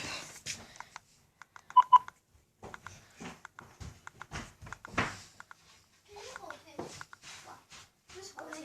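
Dialing tones from a house phone being keyed, a run of short beeps around two seconds in, with people talking before and after.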